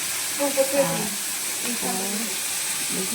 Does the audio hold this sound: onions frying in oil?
yes